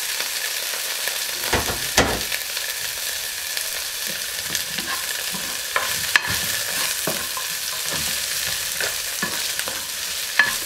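Sliced carrots stirred and stir-fried in a pan for miki noodle guisado, a steady sizzle with scattered scraping stir strokes throughout, nearby and moderately loud with no talking.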